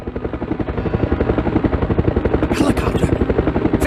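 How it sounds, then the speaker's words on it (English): Loud, steady helicopter rotor chopping in a rapid pulsing rhythm, close by, in Resident Evil Survivor, with a brief burst of higher noise partway through. "Helicopter!"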